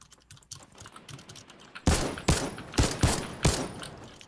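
Gunfire in a video game arena duos match, a rapid burst of four or five sharp, loud shots spaced about half a second apart after a quieter stretch of faint clicking.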